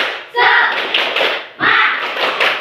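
Children in a classroom perform the tepuk semangat clapping chant, two loud bursts of rhythmic claps mixed with voices shouting along in time.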